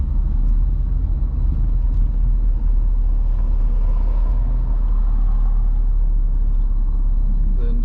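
A 1967 Rolls Royce on a test drive gives a loud, steady low rumble of engine and road noise from inside the cabin, continuous throughout with no talk.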